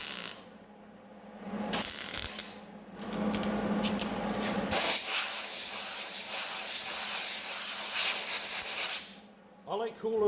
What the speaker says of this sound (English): I like cooling it with air.